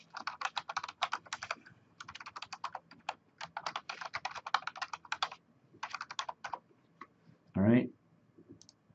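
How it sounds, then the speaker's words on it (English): Fast bursts of computer keyboard typing as a new password is entered, clicking keys in quick irregular runs with short pauses, close and clear, ending with a brief louder thump. "type the new password."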